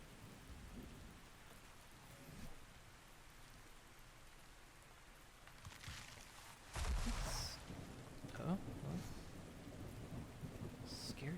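Steady rain falls in the video game Ark: Survival Ascended while thunder rolls in partway through, a heavy rumble over constant patter.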